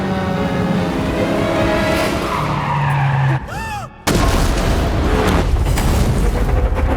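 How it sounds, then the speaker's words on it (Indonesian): In a film, a car skids with a screech, then crashes into an abandoned car with a heavy boom, followed by a loud rumbling aftermath. "Julia menabrak sebuah mobil terbengkalai."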